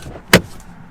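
BMW M2 Competition door unlatching and swinging open, a single short clack from nearby inside a quiet cabin.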